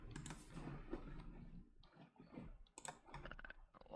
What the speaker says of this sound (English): Is that Anna's keyboard being loud?